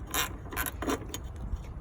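A ratchet loosening the battery ground terminal on a 2001 Toyota Tundra gives a few quick, close metallic clicking bursts over a low background hum.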